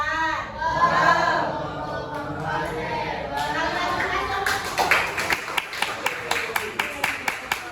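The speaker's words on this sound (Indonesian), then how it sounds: "Oke, tepuk tangan." Indonesian classroom pupils clapping for group 4, first children's voices speaking or chanting, then a run of sharp, evenly spaced rhythmic claps growing clearer toward the end, close by.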